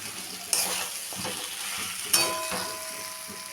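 Fish head stirred into frying masala in a pan, with steady sizzling and two sharp utensil scrapes against the pan, close and alone.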